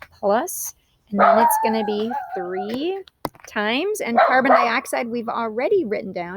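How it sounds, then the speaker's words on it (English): A dog indoors barks and yips a few times, fairly close, mixed in with someone talking steadily over it. "You're just going to have to pardon my noisy dog."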